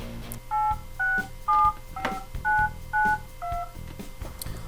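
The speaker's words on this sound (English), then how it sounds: "the idea was that you would hold your phone up to the speaker and it would dial the number for you" Touch-tone DTMF dialing tones played through the speaker of an Apple eMate 300, seven loud, even beeps in a quick regular sequence with brief gaps between them, heard alone.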